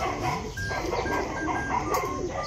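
Birds calling near a loft of racing pigeons, a steady close mix of short tonal calls and coos layered over continuous rustling and farmyard noise for a few seconds.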